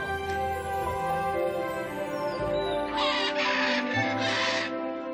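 Macaws call in the bird area of Shanghai Zoo, with harsh, raspy squawks in loud bursts over the later seconds, set against a steady tonal background.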